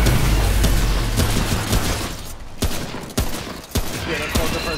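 Rapid gunfire and booming blasts in the video game Remnant: From the Ashes, a loud, dense barrage of repeated shots and impacts that fills the whole stretch.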